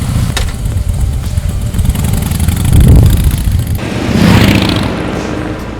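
A Harley motorcycle engine rumbles loudly and close on an open road, a steady low drone that swells twice as the rider accelerates.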